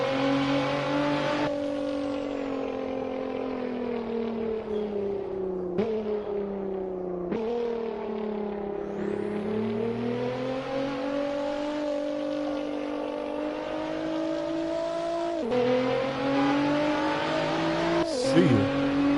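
A race car engine in Assetto Corsa revving steadily at high pitch through a practice lap, with sharp drops and climbs at gear shifts, loud and continuous throughout.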